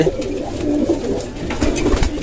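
Pigeons cooing steadily and close by, a low, throaty warble that rolls on without pause through the whole stretch.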